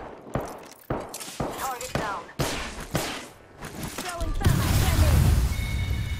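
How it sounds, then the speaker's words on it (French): Video game gunfire with sharp, loud shotgun-like blasts in quick succession, several close reports followed by a rumbling explosion and continuing noisy combat, with players talking between shots. "J'ai entendu des bruits de pompe partout maintenant."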